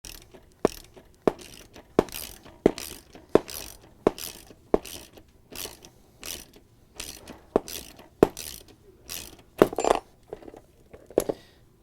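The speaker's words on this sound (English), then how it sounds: "Once you have it held in place, we can take off the auger drive." Mechanical clicking from a Whirlpool ice dispenser motor as its auger drive is taken off, with a steady series of sharp ratchet-like clicks and small metallic knocks close up, no talking.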